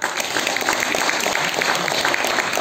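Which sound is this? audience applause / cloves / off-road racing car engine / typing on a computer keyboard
audience applause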